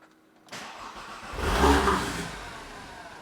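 An Audi TT RS engine, hurricane-damaged, cranks to life and revs up briefly, then settles into a steady, moderately loud running hum.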